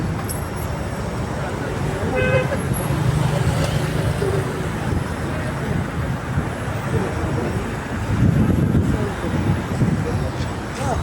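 Street traffic rumbles steadily in front of a battery shop, with louder vehicle passes swelling up now and then; voices can be heard talking over the noise.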